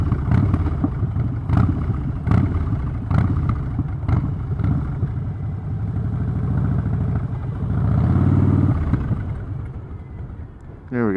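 A Harley-Davidson Street Bob motorcycle engine with running trouble sputters and misfires, rises in a brief rev and then fades as it conks out, heard up close with road noise and a voice speaking over it.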